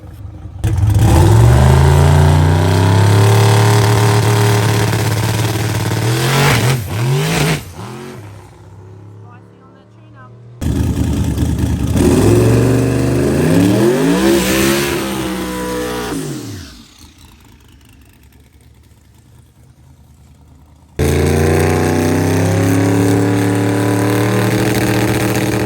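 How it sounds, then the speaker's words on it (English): Drag car with a new Paramount billet block engine on a shakedown pass, loud close revving in repeated sweeps with hard acceleration, brief drops to quieter idle between runs. "This is Caleb's first shakedown pass of the new Paramount billet block."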